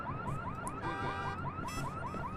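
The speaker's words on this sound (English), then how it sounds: "Could trip that alarm to distract him" A tripped alarm in the video game Watch Dogs wails in a steady repeating electronic pattern of rising tones, like a car alarm, continuous and fairly faint with no talk over it.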